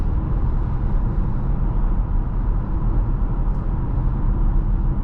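Inside a 2022 Mazda CX-5 2.5 Turbo on the move, a low steady rumble of road and tire noise with faint wind hiss, constant and moderately loud, no one speaking.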